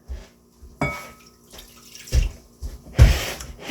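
Half a cup of warm water poured into a container while cooking, heard as a few short splashing gushes with quiet gaps between them, close and fairly clear.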